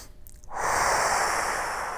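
A long, airy inhalation during a Pilates exercise starts after a short quiet moment and continues steadily, close to the microphone.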